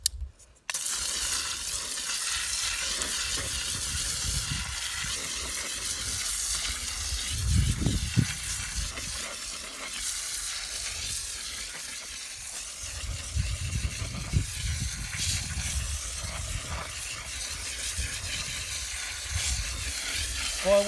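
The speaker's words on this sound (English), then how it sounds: "the next step I'm going to do is to wash away all the soil" A water spray rinses soil off the roots of a Sarracenia pitcher plant during repotting, a loud continuous hiss and splatter close by that swells and dips over about twenty seconds.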